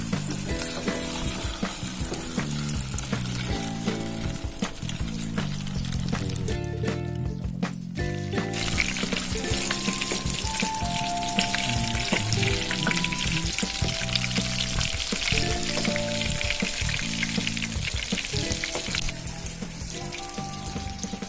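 A whole barracuda (sheela fish) fries in a pan with a loud, continuous oily sizzle and crackle, joined by occasional stirring and pouring sounds and no talk.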